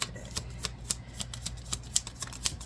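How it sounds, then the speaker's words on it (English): A deck of tarot cards being given a quick shuffle, the crisp riffling and flicking coming in a quick irregular run of close, soft bursts with no talk over it. "I'm just going to pull it from the top after I do a quick shuffle"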